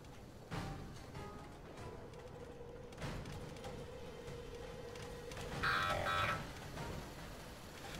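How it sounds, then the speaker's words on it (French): A warning beep sounds in Fallout 4 as a short, shrill electronic burst. It sits over a busy, rumbling game background with scattered thuds. "Bip agressif, d'accord."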